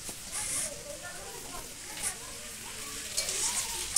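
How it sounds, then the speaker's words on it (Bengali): Beetroot and carrot frying in a pan give a steady soft sizzle with scraping stirs, heard at moderate distance for a few seconds. "আমার মাসি এখানে বিট গাজর ভাজা করছে।"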